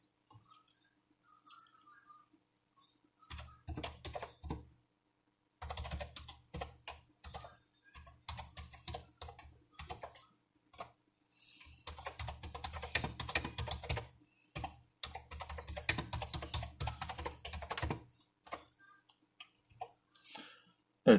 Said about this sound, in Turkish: Evet, klavyeden bir sayı giriyoruz